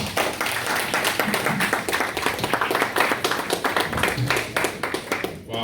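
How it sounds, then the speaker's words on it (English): An audience at a student engineering project showcase at UCC claps along in a fast, fairly regular rhythm, loud and close, holding steady before easing off at the very end. "Keep clapping, keep clapping."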